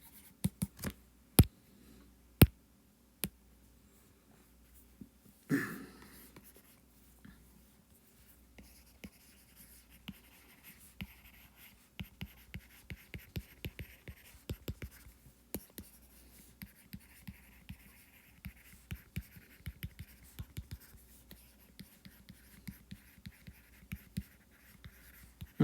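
Handwriting during a physics lecture on circular motion, likely chalk or marker on a board, heard as sparse, scratchy taps and strokes scattered over a quiet room with no talking.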